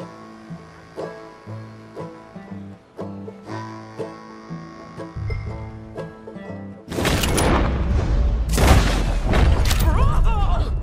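Gunshots in Red Dead Redemption 2 shatter bottles: a few booming cracks with breaking glass burst out loudly after several seconds of plucked, rhythmic music.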